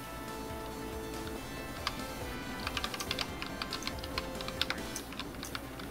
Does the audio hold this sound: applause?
no